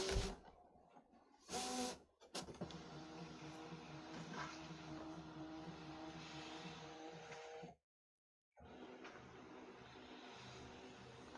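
A Brother ScanNCut cutting machine runs with a steady mechanical whir and a motor drone. It is nearly continuous, with a couple of louder bursts near the start and a brief stop partway through.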